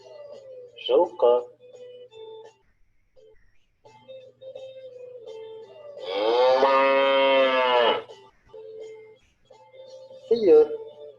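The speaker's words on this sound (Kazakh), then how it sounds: "Сиыр." A cow lets out one long, loud moo of about two seconds. Short voiced sounds come before and after it, with quieter tones in between.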